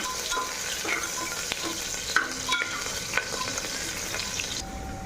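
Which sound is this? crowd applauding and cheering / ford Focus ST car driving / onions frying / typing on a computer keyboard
onions frying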